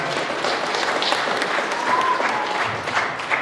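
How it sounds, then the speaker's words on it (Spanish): A crowd applauds at a church patron saint festival, steady continuous clapping at moderate loudness throughout. "Un fuerte voto de aplausos para el consejo parroquial."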